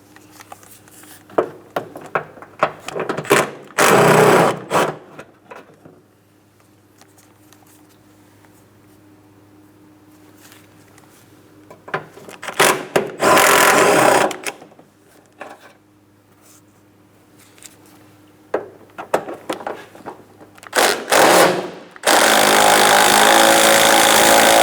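A power tool drives off 10mm mounting nuts and bolts from a Cadillac CTS front bumper bracket in several short, loud bursts separated by quiet handling noises and light clinks, close up.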